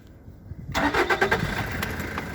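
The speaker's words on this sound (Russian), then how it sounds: "Заводится с полтыка." A 1996 Toyota Hilux Surf 185 with a 140 hp engine cranks over after a short quiet moment and catches at once, settling into a steady, close idle.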